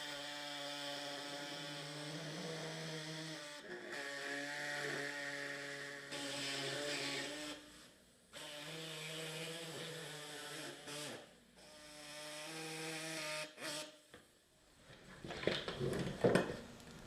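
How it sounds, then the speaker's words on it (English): A power saw trims a car dashboard for a Sport Quattro replica, whining in sustained bursts with brief pauses between cuts, close and loud, ending in rougher, scratchier cutting noise. "let me grab the saw, and we will start trimming this up"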